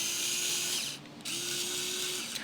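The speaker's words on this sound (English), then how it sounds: "This is one of my favorite brand new tools I just got. It is an electric screwdriver." A brand-new electric screwdriver whirs close up in two steady bursts of high, even motor whine, separated by a short pause.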